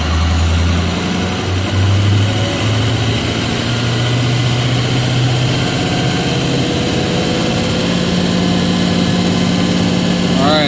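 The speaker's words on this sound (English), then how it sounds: "I'm gonna put my foot on the brake and slowly engage the throttle until we get up to our max RPM" A Ford Super Duty truck with a 5R110W transmission held on the brake during a stall test, its engine droning loud and steady near max RPM, with a sustained low hum and dense broadband roar throughout.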